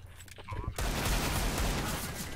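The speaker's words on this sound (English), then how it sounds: "One shot deagle. The one shot deagle. The JUAN DEAG." A single heavy Desert Eagle pistol shot in Counter-Strike: Global Offensive cracks out sharply after a brief quiet moment. Its loud, ringing blast decays slowly over the following two seconds.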